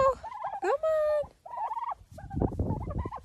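Turkeys gobbling nearby in a pen, several loud warbling gobbles in quick succession alongside chatter from the flock.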